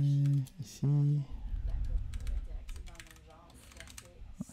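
Keys clatter on a computer keyboard as code is typed in a Python session, a quick irregular run of soft clicks under and after a brief spoken word.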